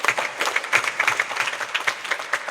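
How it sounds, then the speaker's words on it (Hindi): An audience at a Navratri religious discourse claps in a lively, dense round of applause, with close, rapid hand claps pulsing throughout and no voices. "आपको तालियां बजाकर धन्यवाद।"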